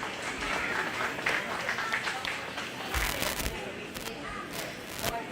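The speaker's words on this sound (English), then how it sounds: "So let's give her a nice round of applause." Crowd applause for an exhibitor at a 4-H/FFA goat show at the 2022 Greene County Fair: steady, moderately distant clapping from many hands that holds for several seconds at a fairly soft level.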